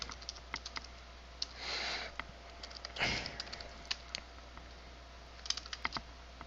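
Keystrokes on a computer keyboard entering a Linux package install command, a steady run of close, light clicks with a couple of short pauses and breathy noises between bursts.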